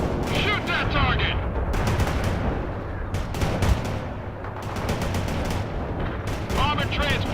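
Rapid gunfire and explosions from the real-time strategy game World in Conflict crackle in dense bursts over a constant rumbling battle bed, with radio voices speaking over the combat.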